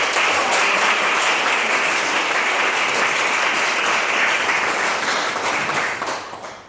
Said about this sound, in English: I think we should have a proper round of applause for Professor Shui.